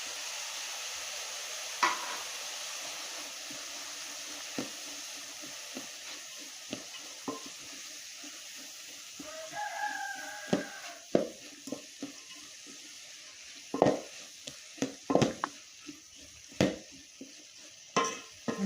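Cabbage with red chilli and cumin frying in a pan, a soft steady sizzle broken by scattered stirring scrapes and clinks that grow busier later, close and alone with no voices.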